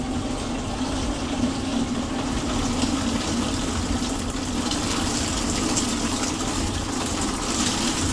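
Tap water gushes under strong pressure in a school bus tiny home, a continuous loud rushing wash that stays even and close throughout.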